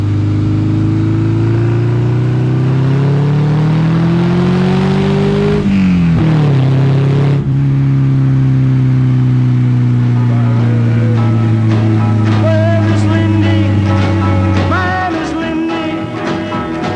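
A VW Beetle converted into a pickup convertible drives along, its engine droning loudly and steadily with rising pitch as it accelerates, a brief gear change midway, then sustained cruising up close.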